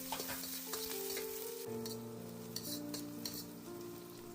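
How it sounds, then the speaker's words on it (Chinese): Oil sizzles steadily in a hot pan as aromatics stir-fry for clams, while a utensil stirs and scrapes now and then, with a faint tone humming underneath. "油烧热以后，先下入配料，炒出香味"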